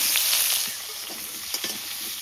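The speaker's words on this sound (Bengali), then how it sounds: "আলুগুলো ওই তেলে ভালো করে ভেজে নিই" Potatoes fry in leftover fish oil in a wok, giving a steady bright sizzle with a few soft stirring scrapes and taps, close by and with no voices.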